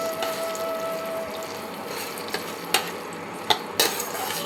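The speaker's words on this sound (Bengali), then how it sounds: "কম আঁচ করে নিয়ে এটাকে আস্তে আস্তে নাড়াচাড়া করতে হয়।" Rice with cashews and raisins frying over a low flame, a soft steady sizzle with a few sharp clinks and scrapes of a spoon stirring the pan.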